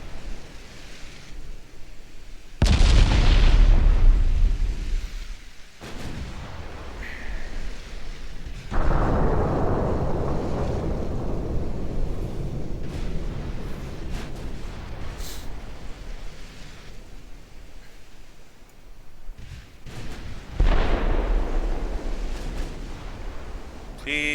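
Heavy naval guns fire in Ultimate Admiral Dreadnoughts, with several deep, loud booms spaced far apart, each trailing off in a long rolling rumble over quieter background noise.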